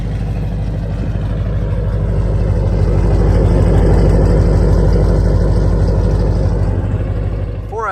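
A loud, deep 5.7 Hemi Ram truck engine with long tube headers idles steadily with a lumpy, rumbling throb, close by and continuous.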